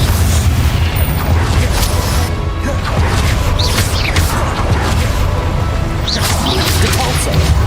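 A Confringo spell explosion in Hogwarts Legacy, set in a loud, dense battle. Booming crashes and crackling bursts overlap throughout, with no pause and no quiet moment.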